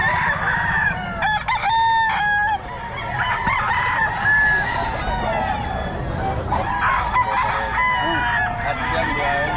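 A gold stag, a young rooster, crows loudly in repeated calls over a busy backdrop of other fowl clucking and honking nearby, with faint voices in the background.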